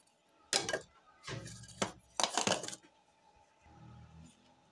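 Fried potato chips tossed with red chili powder in a bowl or pan, giving a few loud bursts of dry, crisp rattling and scraping with short pauses between them, close by.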